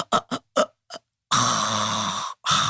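A voice imitates loud snoring, a few short rasping snorts, then a pause, followed by a long, harsh gulping intake of air and a brief snort after it, all close and alone.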